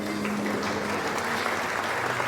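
A church congregation applauding in praise during a service, a steady wash of many hands at moderate distance over a low sustained hum, fairly quiet.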